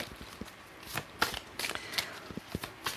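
Tarot cards shuffled by hand in a short, close riffle of papery flicks and taps, several quick bursts over a few seconds with no talking.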